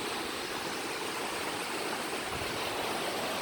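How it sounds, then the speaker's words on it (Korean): A mountain valley stream swollen after typhoon rain rushes in a dense, constant roar of water, close and loud, with no breaks and no voices. "덕분에 비가 많이 와서 계곡에 물이 물이 많이 내려오네요"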